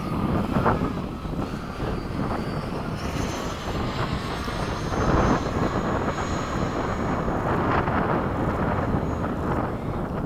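Freewing 90mm F-22 RC jet with its electric ducted-fan engine on a runway at sunset, a steady loud whooshing roar with wind buffeting the microphone, fairly close and without talk.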